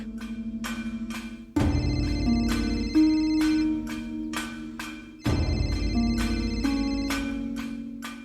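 A phone ringtone plays a looping electronic melody, steady and fairly loud, repeating its tune twice with no voices over it.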